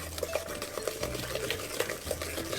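Egg is mixed by hand for blueberry muffin batter, giving soft, quiet, irregular stirring and light scraping taps against a bowl, close and alone.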